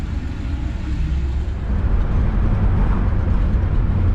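A 1966 Ford Galaxie 500 out on a short drive, heard as a steady low engine and road rumble from inside the car that stays loud and continuous with a slight rise partway through.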